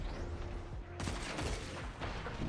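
Rapid bursts of gunfire in the Destiny 2 shooter game crackle in a quick, dense cluster, fairly faint and muffled, with a sharper volley near the middle.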